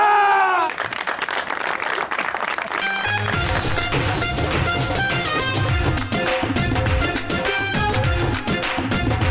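A TV studio audience claps and cheers for cricketer Usman Pirzada, a dense, loud burst of applause that carries on over brassy music.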